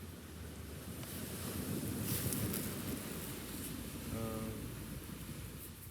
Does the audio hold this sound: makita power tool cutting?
no